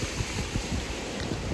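Cold wind gusting on a seaside beach, a continuous broadband rush with low buffeting thumps against the microphone.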